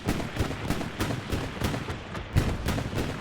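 Artillery and gunfire boom steadily across a Hell Let Loose battlefield, with repeated heavy thuds and cracks arriving every half second or so over a constant rumble of distant combat.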